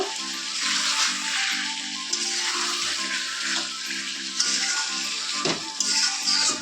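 Meat cooking in a pan in a home kitchen gives a steady, fairly loud broadband sizzle with a faint underlying hum, continuous throughout with only small flickers.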